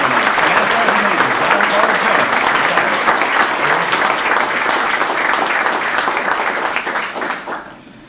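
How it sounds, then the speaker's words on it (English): A crowd at a military retirement ceremony gives a sustained round of applause with dense, steady clapping that fades out over the last second, loud and close, with no talk over it. "Round of applause."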